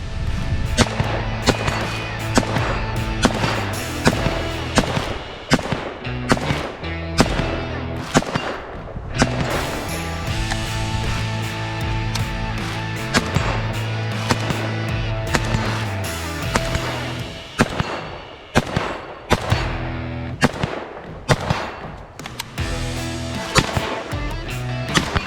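A handgun fitted with a Holosun HS403R red dot is test-fired outdoors, a dense series of sharp, loud reports in quick irregular succession that continues throughout, with no talking.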